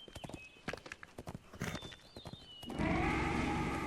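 Horse hooves clip-clop in Lord of the Rings Online as a mounted rider travels, a quick steady run of clopping hoofbeats up close, giving way near the end to a louder rushing burst.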